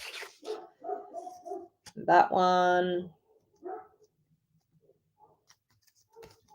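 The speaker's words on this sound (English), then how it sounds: "Oh, and the dogs are barking again." Neighbouring dogs bark in a residential setting: a cluster of sharp barks near the start, then a louder, longer harmonic bark burst, with scattered faint yips afterward; someone speaks briefly.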